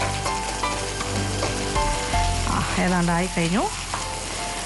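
Egg frying in a pan being stirred, sizzling and spatula scraping close up, with a voice speaking briefly and some tonal squeaks over the frying.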